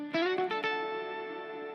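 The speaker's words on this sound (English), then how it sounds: "this one's going to have some delay and reverb as well without the harmonizer" Electric guitar played through a Headrush pedalboard with delay and reverb, a few quick picked notes that ring out into a long sustained chord with a smooth reverberant tail, clean and alone.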